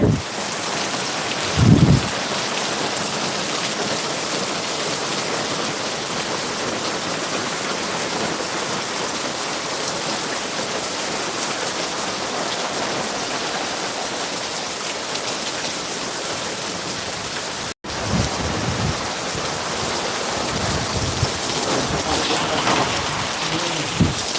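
Heavy rain pours steadily and loudly for the whole stretch in Khadadhar village, Amreli, with a brief low rumble near the start and another toward the end, no voices.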